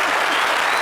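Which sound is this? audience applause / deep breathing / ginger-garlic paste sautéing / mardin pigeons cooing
audience applause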